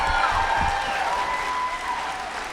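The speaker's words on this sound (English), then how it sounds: "give yourself a round of applause" A WonderCon convention crowd at the Cowboys and Aliens panel applauds, a dense, loud wash of clapping that tapers off slightly over a few seconds.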